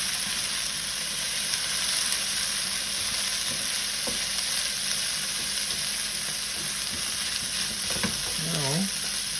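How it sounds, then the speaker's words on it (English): Macaroni and egg sizzle loudly and continuously in a hot frying pan, with occasional scraping and stirring sounds close by. "Oh, that's frying pretty good already."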